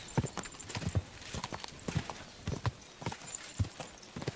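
Hoofbeats of a running horse in the medieval game Kingdom Come Deliverance II: a repeating, close clip-clop gallop pattern, moderately loud and continuous throughout.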